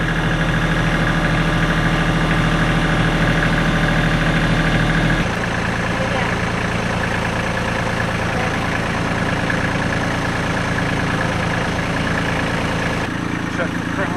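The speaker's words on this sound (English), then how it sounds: "This is the only time I ever get to drive the tractor on our house." A tractor engine runs steadily nearby with a throbbing, rumbling idle, dropping to a lighter, smoother running sound partway through, while people talk over it.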